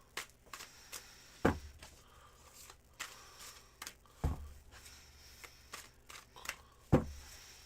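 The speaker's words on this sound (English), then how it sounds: "I need to do a cleansing shuffle for you first there, Sweaty" A tarot deck is shuffled by hand in a quiet room: soft papery riffles and clicks, broken by three louder thumps as the cards are knocked together, roughly every few seconds.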